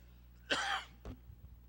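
A preacher gives one sharp, close cough followed by a short rough throat clearing, with nothing else around it.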